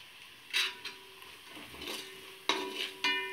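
Kokum and jaggery are stirred and sautéed in a pan, giving soft scraping stirs with a faint sizzle and a few sharper strokes near the end, moderately quiet.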